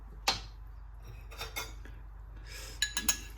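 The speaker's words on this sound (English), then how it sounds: "Let's put a little bit in the bowl." Cooked black chickpeas (kaala chana) are spooned into a bowl in a kitchen: a sharp metal clink on a dish, a few soft scrapes and taps, then several quick clinks of spoon against bowl, close and fairly quiet.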